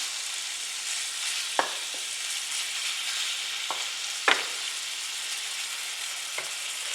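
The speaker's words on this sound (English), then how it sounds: "Okay, pan is hot. Hamburger is starting to cook up." Ground beef frying in a hot pan gives a steady, fairly soft sizzle throughout, broken by a few sharp clicks and taps of a utensil against the pan.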